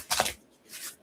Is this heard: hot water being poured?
no